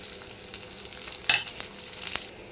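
Small shallots frying in hot oil for a Kerala beef roast, a soft crackling sizzle with a few sharper pops and stirring clicks, fairly quiet and close, no voices.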